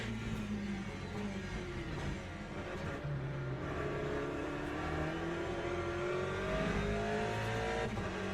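A Porsche race car engine in a racing video game, a steady droning roar with rising and falling revs as the car accelerates, blended with other cars in the background.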